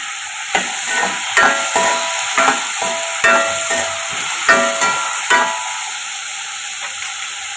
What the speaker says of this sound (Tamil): இப்போ பூசணிக்காய்க்கு தேவையான உப்பு சேர்த்து வதக்கிக்கிறோம்.